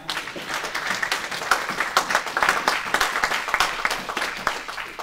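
A church congregation applauds and cheers in acclaim of the Lord, a dense, continuous burst of clapping with scattered shouts, fairly close and lively throughout.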